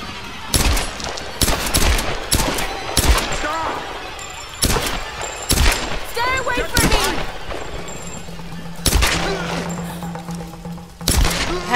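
Gunfire in Tomb Raider: a string of loud, sharp shots in irregular bursts, some close together and some spaced apart, with someone talking between them.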